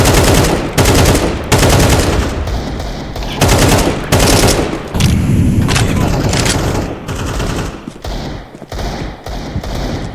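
Loud, rapid bursts of gunfire in Counter-Strike 2 crack repeatedly, with heavy thuds and booms mixed in, sounding close and intense throughout, with a faint voice underneath.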